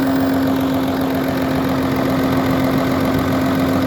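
The six-cylinder diesel engine of a roughly 50-year-old Komatsu D80A bulldozer idles loudly up close, a constant, even rumble with a steady tonal hum and a faint knocking texture, running unchanged throughout.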